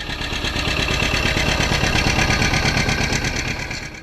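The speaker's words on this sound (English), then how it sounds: "the familiar bump-bump sound of Deere's 2-cylinder power filled the field with a rhythm that still stirs memories" A John Deere Model R two-cylinder diesel tractor engine runs steadily in a field with a dense, rhythmic low thumping pulse, loud and close, continuous throughout with no voices.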